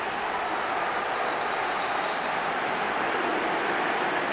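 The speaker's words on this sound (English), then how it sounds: "Even some of the opposing fans are clapping that." A stadium crowd of football fans applauding in the eFootball 2025 video game during an Inter Milan versus Chelsea match, a dense steady wash of clapping that fills the whole stretch with no voices over it.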